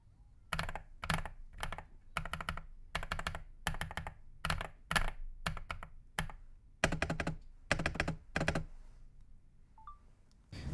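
Typing on a homemade mechanical keyboard fitted with foam mods, producing close, rapid bursts of muted clacky keystrokes in irregular clusters with brief pauses between them.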